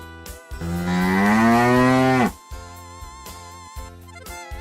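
A cow in a children's cartoon gives one long, loud, rising moo lasting nearly two seconds, then music continues with steady beats.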